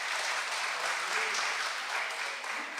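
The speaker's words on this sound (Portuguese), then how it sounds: "Se é para aplaudir, aplaude com mais força, irmãos." A church congregation applauds steadily, a dense wash of clapping that stays even and fairly close throughout, with some voices mixed in beneath it.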